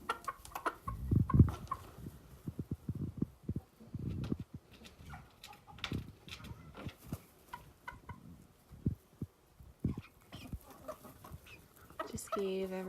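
Backyard chickens cluck and murmur close by in snowy weather, with short, scattered calls and scratching noises mixed with occasional human talk.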